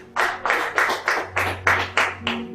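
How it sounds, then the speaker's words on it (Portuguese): Congregation in a church clapping in unison, about eight sharp, evenly spaced claps at a steady rhythm, fairly close and loud, with a low hum beneath. "Uma salva de palmas para o Senhor"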